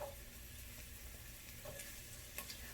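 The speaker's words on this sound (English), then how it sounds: "we're going to go ahead and add some of our garlic to the nice hot pan," Garlic and onions sizzle in a hot pan, a soft steady frying hiss with faint crackles, low and continuous with no voices.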